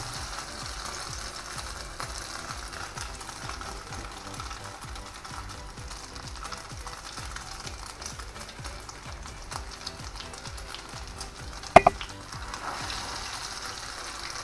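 A breaded sardine frying in hot oil, a low steady crackling sizzle throughout with a brief clink near the end, fairly quiet and close.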